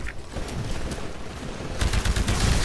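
Gunfire from shooting enemies in the video game Titanfall, with rapid bursts that grow louder and denser in the second half. It plays as a continuous, fairly close volley with little else present.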